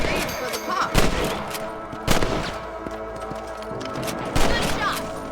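Rapid rifle gunfire from hunting rabbits in the Western video game Red Dead Redemption, several sharp loud shots at irregular intervals over a dense game soundscape, with talk in the background.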